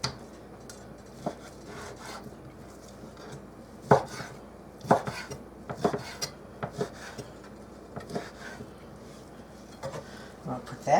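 A knife chops raw chicken into small bite-sized chunks on a board for sweet and sour chicken: close, irregular sharp chops in scattered bursts over a quiet kitchen background, with no talking.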